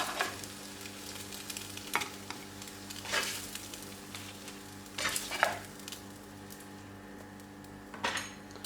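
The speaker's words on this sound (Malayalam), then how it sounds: "നമ്മുടെ ബ്രെഡ് പൊരിച്ചത് റെഡി ആയിട്ടുണ്ട്" Bread slices fry in a pan as a Ramadan snack, a faint steady sizzle under intermittent scraping and clinking of a utensil against the pan.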